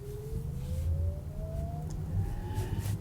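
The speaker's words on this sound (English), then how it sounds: "you have a noise that is somewhat reminiscent, I would say, of a low-flying saucer." Porsche Taycan Turbo S electric car emitting its synthetic driving sound, a thin rising electronic whine over a low hum, steadily climbing in pitch like a hovering saucer.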